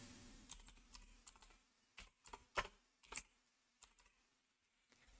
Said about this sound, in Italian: nella barra di ricerca del nostro motore di ricerca andiamo a digitare